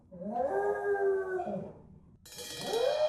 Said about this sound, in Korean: 급기야 하울링까지 하는데요.